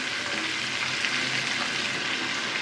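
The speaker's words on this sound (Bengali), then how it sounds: "একটু শব্দ শোনেন তার আবার কথাও শোনেন সাথে মাছটা একটু হালকা করে ভেজে নিতেছি আমি" Pomfret fish shallow-frying in hot oil in a pan, a dense, steady sizzle and crackle running loud and close throughout, with no voices.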